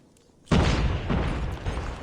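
A frag grenade goes off in Call of Duty Mobile with a sudden loud boom that fills the mix and rumbles on for over a second, after a quiet lead-in.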